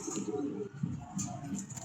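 A pigeon coos from a neighbouring loft where racing pigeons are made to fly, soft low murmuring calls repeating across the short stretch with light ambient noise.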